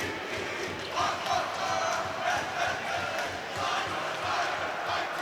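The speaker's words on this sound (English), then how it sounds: "That woke up the Tiger crowd" Tiger home crowd at a high school hockey playoff game against Littleton roaring and cheering, a sustained rolling crowd swell heard from slightly above and at a distance.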